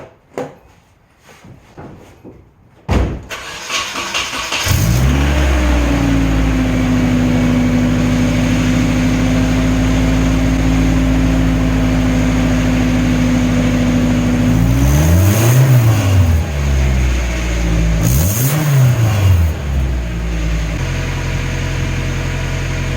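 Nissan 240sx engine with a new intake and turbo fired up for a test: a few seconds of cranking, then a loud steady idle, with two brief throttle blips rising and falling in pitch later on.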